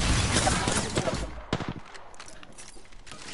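Gunfire in a PS4 shooter game, a loud dense rattle of rapid shots that thins into scattered bangs, with a voice speaking over it.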